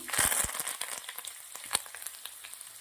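Mustard seeds, cumin, green chillies and curry leaves crackle and sizzle in hot oil, with a burst of sharp pops at first that thins into scattered spits and a steady hiss.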